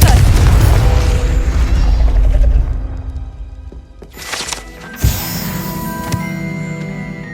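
Confringo blast spell in the video game Hogwarts Legacy, a loud booming fiery explosion with a deep rumbling tail that fades, followed by a sharp magical burst and a shimmering, ringing effect.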